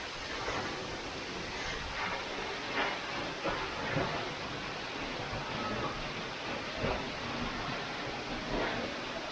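Waterfall at Lingya Ghat in the Sahyadri hills, water falling fast as a constant broadband roar, loud and close, steady throughout with slight surges and no talk.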